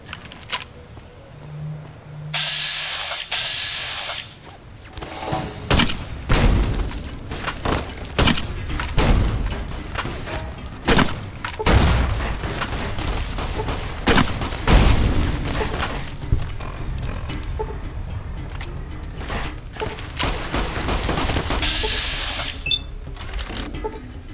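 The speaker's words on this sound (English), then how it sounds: "Gonna use the grenade launcher." Grenade launcher explosions from the video game Fallout: New Vegas come as a series of loud booming blasts with ragged bursts between them, spread across the clip, with no talk.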